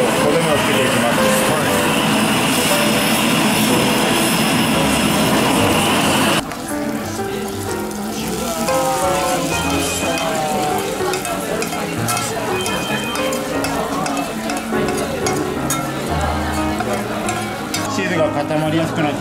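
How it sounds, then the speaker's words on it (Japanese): A kitchen blowtorch roars as it browns cheese at the table in a busy Ikebukuro meat bar, with a steady loud hiss and sizzle that continues throughout while people talk nearby and the room's dining clatter fills the background. "焦がしチーズのなんちゃってミチョレットという、目の前でバーナーで焦がして垂らしてくれる"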